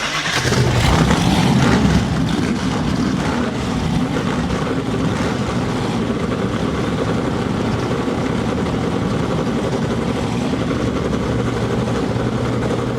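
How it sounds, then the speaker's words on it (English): Loud race car engines at Lakeside Speedway in Denver rumble steadily, rising in a revving surge early on before settling into a sustained, throaty idle roar. "Gentlemen, start your engines!"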